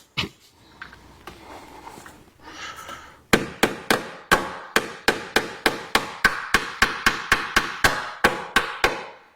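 A hammer taps an aftermarket Jeep JL grille into place, starting with a few scattered knocks and then a steady run of about twenty sharp, evenly spaced strikes, close and loud.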